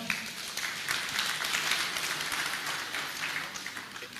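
An audience at a medical school launch ceremony applauds a choir, a dense, even wash of many hands clapping, sustained and moderately distant.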